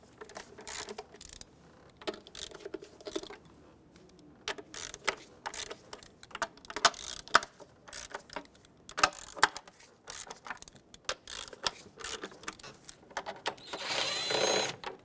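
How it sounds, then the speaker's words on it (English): Wrench or ratchet work on the 8 mm upper intake manifold bolts of a 2008-2020 Dodge Grand Caravan 3.6L, with scattered clicks, metallic clinks and ratcheting bursts spread across the clip, ending in a louder hiss-like rush. "I'm gonna work my way from the outer bolts to the inner bolts, just breaking them free."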